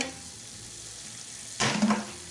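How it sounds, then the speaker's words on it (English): Yukon Gold potatoes going into a hot pan to sauté: a quiet room tone, then a sudden bright sizzle bursts up near the end and keeps crackling for the final second. "I'm going to add my potatoes now. And I'm going to just sort of saute those for a couple of minutes or so."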